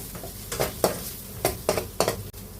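Turmeric powder sautés in a pan for egg curry with soft sizzling and a handful of rhythmic stirring scrapes, close and fairly quiet, no voices.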